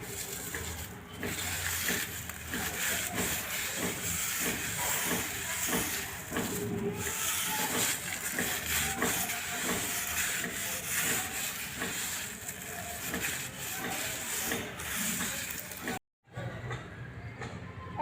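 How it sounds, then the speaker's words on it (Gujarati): Garlic cloves rubbed together by hand to loosen their papery skins, a steady dry rustling and scraping that runs continuously and close, with a brief gap near the end. "લસણને આ રીતે ઘસવાથી આપણી ફોતરી છે તે નીકળી જાય છે"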